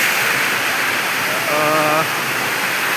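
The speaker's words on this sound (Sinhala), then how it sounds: "තනිකර දියාල්ලේ වතුර ටික වැටෙනවා මාරම ලස්සනයි" Steady rushing water from a waterfall fills the whole clip, with a brief voice-like tone partway through.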